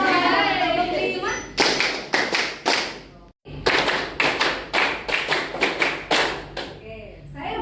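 An audience at a university teaching workshop claps along to a counted clap chant, giving crisp group bursts of claps in changing rhythms, one brief pause midway, with a leader's voice calling between rounds.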